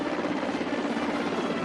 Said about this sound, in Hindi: एयर शो की शुरुआत 3 Mi-17 हेलीकॉप्टरों ने की।